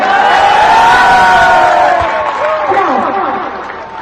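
A crowd at a stadium football match event in Gandey claps and cheers loudly, a dense swell of applause with whistles that slowly fades, while a voice speaks over it.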